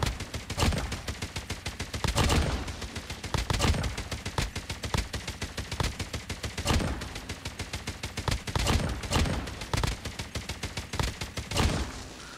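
The Oden Divine Smite rifle in COD Mobile fires continuously at a slow, steady rate, each loud shot clearly separated and repeating for the whole stretch.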